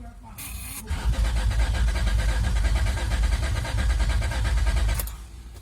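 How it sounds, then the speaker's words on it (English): A 2003 Honda Accord with a swapped V6 engine cranks briefly, then catches and runs with a steady, loud rumble before cutting off near the end. "So turn the engine over for the first time."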